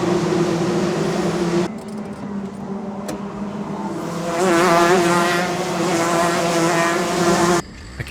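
Racing karts rev hard at the start of a karting heat, their engine whine rising in pitch as they pull away, loud and close, with a brief sharp crack partway through.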